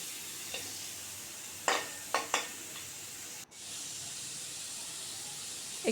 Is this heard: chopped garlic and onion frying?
yes